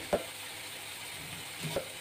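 Eggs fry gently in a masala gravy for egg biryani, a soft steady sizzle with two brief clinks or scrapes near the start and end.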